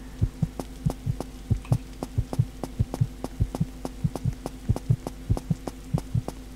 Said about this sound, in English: I can hear a heart pounding.